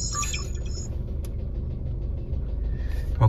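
A car engine runs steadily as the car reverses slowly, a low continuous rumble with a faint electronic beep near the start, close and alone with no talk.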